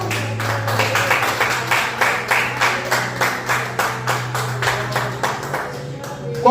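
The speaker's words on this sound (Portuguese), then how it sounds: "Aplauda o nome de Jesus." A church congregation claps in a steady rhythmic beat at close range, each clap sharp and even, with a sustained low tone from music or an organ humming underneath throughout.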